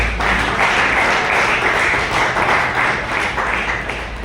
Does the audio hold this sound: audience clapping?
yes